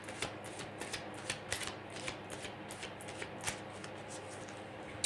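Tarot cards are shuffled repeatedly up close, a series of quiet riffling flutters and soft taps in an irregular rhythm.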